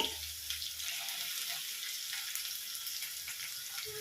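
Finely chopped onion, garlic and green chilli fry in a pan for chicken sukka, giving a steady, close sizzle with small crackles, and no voices over it.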